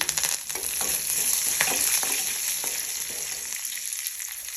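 Curry leaves dropped with urad dal into hot oil, giving a loud, dense crackling sizzle that holds steady and eases off slightly toward the end.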